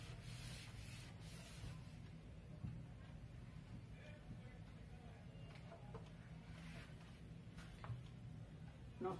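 Writing is rubbed off a board during a maths lesson, a faint steady scrubbing and sanding sound that continues for several seconds.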